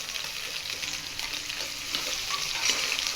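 Tomatoes cook in a pan with a steady, moderately loud sizzle and bubbling, while a spoon stirs them with soft scraping.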